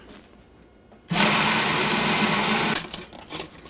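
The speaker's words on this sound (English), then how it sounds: "now I'm just going to whir all this until it's nicely blended" Food processor blending pesto, a loud steady whir that starts abruptly, runs for about a second and a half, then stops, leaving quieter clatter behind.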